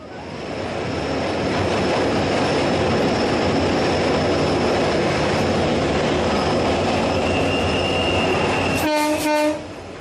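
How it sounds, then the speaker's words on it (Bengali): A train rumbles steadily as it gets under way, a continuous rolling roar with faint clatter, then a loud horn blast rings out briefly near the end, used as a radio play sound effect. "ট্রেন চলতে শুরু করলো।"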